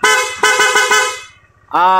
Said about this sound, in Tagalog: Okay, so loud horn with passing.